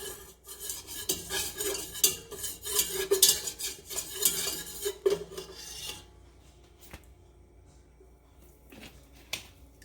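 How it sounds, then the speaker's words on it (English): Half a cup of flour being whisked into olive oil in a pot, a quick metallic scraping and clinking that runs busily for about six seconds, then thins to a few isolated taps near the end. "I'm going to whisk around this 1/2 cup of flour until it becomes pale"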